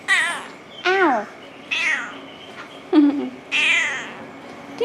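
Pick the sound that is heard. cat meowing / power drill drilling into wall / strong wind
cat meowing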